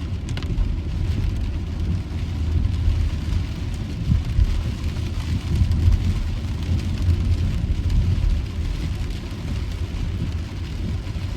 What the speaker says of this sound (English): it's raining, it's uncomfortable